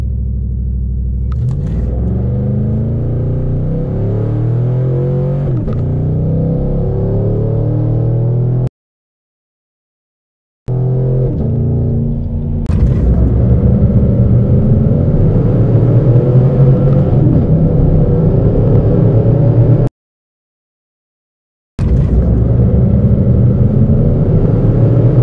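A 2018 Chevrolet Silverado with a 5.3 V8 and a 93-octane performance tune accelerates hard from 0 to 60, loud and close. The engine note climbs again and again through the gears, with sharp breaks at the shifts and no talk.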